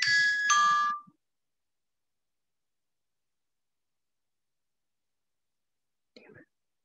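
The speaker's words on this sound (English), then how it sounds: "My phone had an alarm on it." A phone alarm rings in a bright, tonal burst for about a second, then cuts off, leaving near silence with a faint brief rustle near the end.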